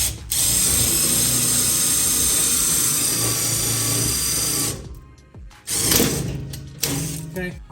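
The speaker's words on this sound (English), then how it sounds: "I'm going to use an 1/8 inch drill bit" A power drill with a 1/8 inch bit whines steadily through a metal transmission tunnel panel for several seconds, then stops; after a pause come a few shorter bursts of drilling with clanks in between.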